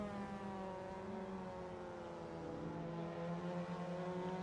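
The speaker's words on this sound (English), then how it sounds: "You can hear the bee swarm of engines behind." Pack of Mazda MX5 race car engines in a sim racing game at Bahrain, a dense buzzing drone of several engines held at steady revs, continuous and fairly loud with no voices.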